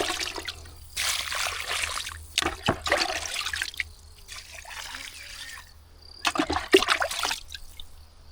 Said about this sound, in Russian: Так что щедро заправляем почву водой.